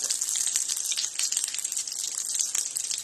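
Cutlets fry in a pan with a steady, bright hissing sizzle that holds at an even level throughout, with no voices.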